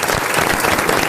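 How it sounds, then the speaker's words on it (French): A French radio studio audience gives a dense, loud burst of applause for Marc-Antoine Lebray, a steady wash of clapping that is close and constant throughout. "Alors on peut applaudir Marc-Antoine Lebray."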